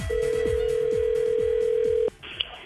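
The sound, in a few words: telephone ringing on an outgoing call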